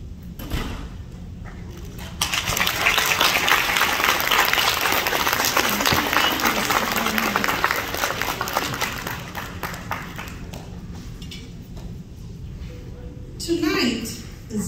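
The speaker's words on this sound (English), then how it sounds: "let us give them an applause" An audience at an alumni association gathering gives a long round of applause for standing alumni teachers. The clapping swells into a dense, sustained roar for several seconds, then thins as voices break through near the end.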